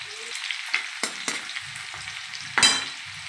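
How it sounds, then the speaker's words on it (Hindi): Green garlic sizzles and crackles in hot oil in a home kitchen pan, being fried for dal or sabzi, with intermittent stirring scrapes and sharper bursts of spitting, close and steady with no talking. "उसी में हम हरा लहसुन डालेंगे।"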